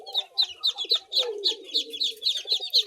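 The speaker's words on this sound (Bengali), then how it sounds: "সব চিনি হাঁসের বাচ্চা" Chinese duck ducklings about three days old peep in a steady run of rapid, high, close chirps, roughly a dozen in quick rhythm over a low background murmur.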